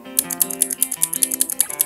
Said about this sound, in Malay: Untuk blue key switch ni adalah bunyi yang paling kuat sekali lah.